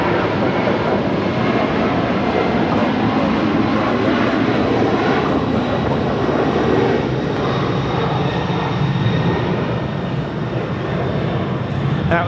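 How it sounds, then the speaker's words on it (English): An Asiana Cargo Boeing 747-400 converted freighter departs LAX, its engines a loud sustained roar that holds steady throughout, heard from a distance outdoors. "That was Asiana Cargo 286 departing to San Francisco on a 747-400 converted freighter"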